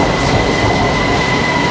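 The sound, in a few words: BTS Skytrain train arriving in Bangkok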